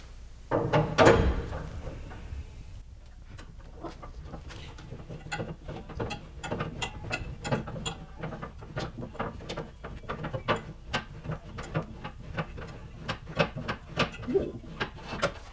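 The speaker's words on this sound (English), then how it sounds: "we'll just start cranking up once we got it centered in there" A hand crank works the pulley system that raises a full-size 37-inch spare tire under a 2017-2020 Ford F250 Super Duty truck, giving a fast run of sharp ratcheting clicks and mechanical clatter after an opening thump.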